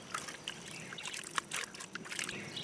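Dirty water trickling and dripping from raw wool fleece squeezed by hand during outdoor scouring, a steady patter of small splashes, close and fairly quiet, with no talking.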